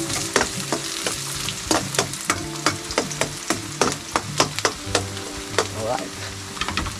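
Garlic fries for laing while a spatula scrapes and stirs it in a pan, giving repeated rhythmic scraping strokes over a constant close sizzle. A voice speaks briefly.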